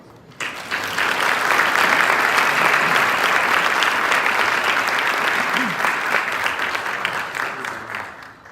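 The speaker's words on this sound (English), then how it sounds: "they would, maybe if you allowed me at this stage, really deserve a round of applause" A conference hall audience at the closing ceremony of a global partnership meeting against scammers gives the organisers a sustained round of applause, swelling quickly and staying full for several seconds before tapering off.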